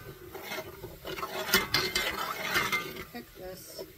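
Elk steak for carne asada being stirred in a pan, with a utensil scraping and clinking against the metal amid a steady sizzle, close and busy.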